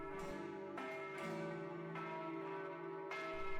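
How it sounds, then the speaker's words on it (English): Church bells peal in a steady sequence of resonant strikes, each ringing tone overlapping the decay of the last, sounding moderately distant and alone without any voices. "just as the church bells were ringing for his wife's second marriage"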